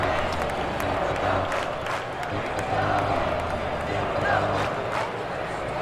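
A stadium crowd at a St. Louis Cardinals vs New York Yankees baseball game in MLB 2K7 on Xbox 360 keeps up a steady, full roar of cheering and murmur, with commentators talking over it.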